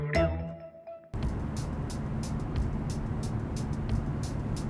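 Nissan 350Z sports car under way, a steady broadband engine and road rumble filling the cabin after an abrupt start, with faint voice sounds near the beginning.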